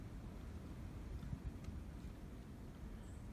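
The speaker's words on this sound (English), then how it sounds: "It's a little windy now" Steady low rumbling wind buffeting an outdoor microphone on a snowy winter day, continuous and fairly loud throughout with no other clear sounds.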